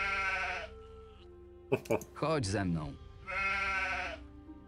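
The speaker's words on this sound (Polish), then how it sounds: "Coś tu słyszę? Słyszałem B. Jest baran!" A ram bleats in the video game Gothic: Chronicles of Myrtana, two long wavering bleats, one at the start and one near the end, with someone talking briefly between them.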